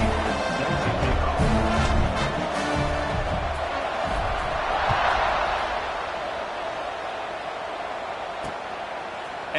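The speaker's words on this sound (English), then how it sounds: "this crowd is buzzing after that last score" Steady, dense roar from a football stadium crowd after a touchdown, broad and far-off, fading slightly toward the end.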